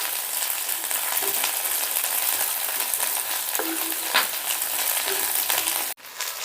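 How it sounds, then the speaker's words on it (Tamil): Sliced onions sizzle in hot oil in a pan while being stirred for a Tamil-style chicken curry, a continuous close frying hiss with occasional scraping stirs and a brief clunk near the end. "வெங்காயம் கோல்டன் ப்ரௌன் வர வரையும் வதக்கணும்."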